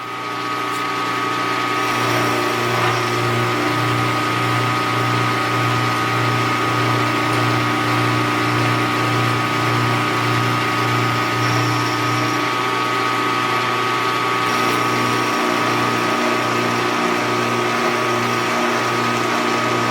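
Climb cutting metal on a small lathe, a steady mechanical hum and whir with a rhythmic pulsing drone throughout, close and fairly loud, with no talking.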